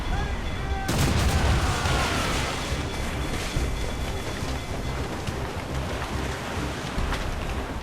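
Ship cannons firing in the video game Assassin's Creed Rogue, a dense, continuous barrage of booming blasts and rumble in a naval battle, loud and close, with faint shouting mixed in.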